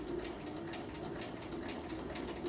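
An overlocker runs steadily, rolling and stitching a narrow hem on sheer chiffon with a Bernina roll-hem setup, giving a continuous close, loud mechanical whir with a strong hum and no talking.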